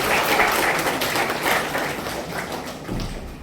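A school debating event audience breaks into loud, dense, sustained applause that fades slightly toward the end.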